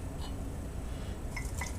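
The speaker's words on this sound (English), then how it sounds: "shake out the water" Water drips and spatters from a wet boar-bristle shaving brush being shaken out, a few light, brief droplet ticks near the end over a steady low background hum.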